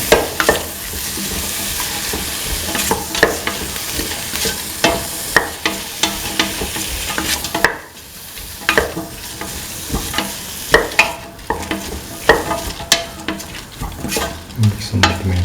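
Tomato pieces are stirred into a sizzling chickpea and snake gourd mixture in a pan, with repeated sharp scrapes and clinks of the utensil over continuous frying, close and busy, with a brief lull midway.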